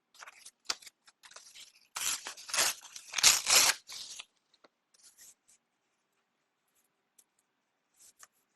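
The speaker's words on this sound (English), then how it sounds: "I'm just stripping down paper because I don't want something that's way too big." Paper torn by hand into strips for a collage: a few short rips, then a cluster of longer, louder tears over about two seconds, followed by faint crinkles and light handling, close up, with no talk.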